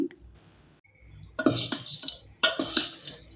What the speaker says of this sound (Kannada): ಸೇವೆಲ್ಲ ಹಾಕಿದ ನಂತರ ನೀಟಾಗಿ ಮಿಕ್ಸ್ ಮಾಡ್ತಾ ಇದ್ದೀನಿ